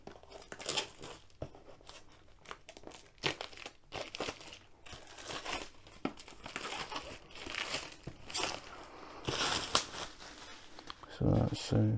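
Cellophane wrapping torn and crinkled off a Diamond Art Club box, busy crackling and rustling bursts throughout, close up, with a voice speaking briefly near the end.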